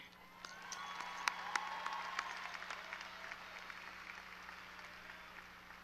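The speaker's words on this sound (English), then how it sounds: "I'd like to start off by giving just one more round of applause to all of us" Graduation audience applauding at the Vista Ridge 2024 ceremony, a steady wash of clapping with a few sharp louder claps standing out, moderately distant and sustained throughout.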